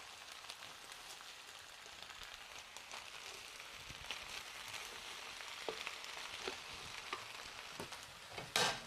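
Chickpeas and spinach fry in a curry pan with a soft, steady crackle and scattered pops, faint and close, plus a brief louder clatter near the end.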